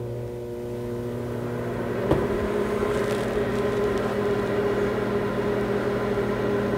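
A microwave oven powered by a 48-volt LiFePO4 RV battery system hums steadily nearby, a constant tonal drone with a brief click partway through.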